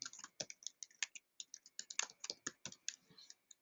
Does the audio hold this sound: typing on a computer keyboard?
yes